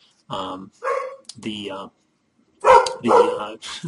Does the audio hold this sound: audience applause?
no